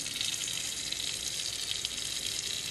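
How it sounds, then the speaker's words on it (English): Steady hiss of hot water pouring from a tap, running continuously at an even level with no voices. "I'm going to run the hot water"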